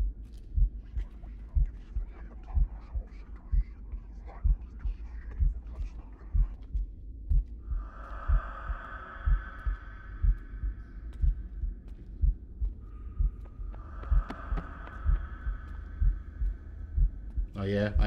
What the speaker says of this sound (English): he's heavy breathing in my direction